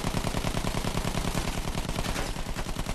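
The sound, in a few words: gunfire in the video game Battlefield 1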